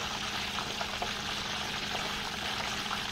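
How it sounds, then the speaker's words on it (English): Chicken quarters deep frying in oil over medium heat, giving a steady, dense bubbling hiss throughout, close and even with no talk. "It's a medium heat and then just continue to deep fry it until"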